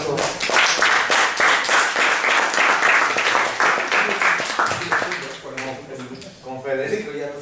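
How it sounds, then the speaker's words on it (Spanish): A lecture audience at the Universidad Veracruzana breaks into dense, steady applause for about five seconds; the clapping then thins out as voices take over near the end. "Un aplauso."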